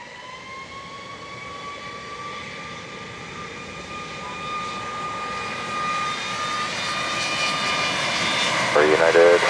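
A passenger jet airliner takes off from runway 25 at Montego Bay, Jamaica, its engine roar and high whine steadily building in loudness over several seconds, with radio voices over it.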